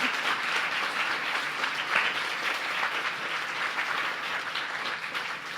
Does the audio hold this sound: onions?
no